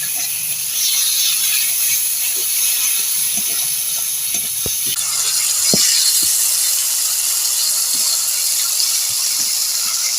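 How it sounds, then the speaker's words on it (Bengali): Spice paste with a little sugar sizzles steadily in a pan while being fried down for dudh shukto, a constant loud hiss with occasional soft pops and clicks of stirring. "এবার ভালো করে মশলাটা কষিয়ে নেব।"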